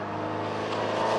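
MG race cars in the Cockshoot Cup at Croft circuit pass trackside, heard as a short, loud, steady engine roar that swells slightly near the end.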